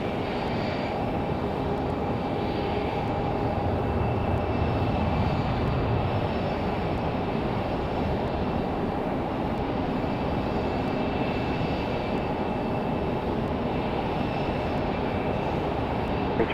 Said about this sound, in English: We've got an American Max 8 sitting out here getting ready for their departure.